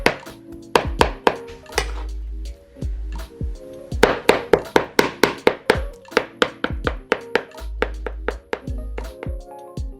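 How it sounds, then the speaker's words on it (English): A knife's back chops smashed shrimp on a cutting board in a fast, uneven run of sharp thunks and taps, loud and close, with brief pauses between bursts. "Use the back of the knife again to gently chop."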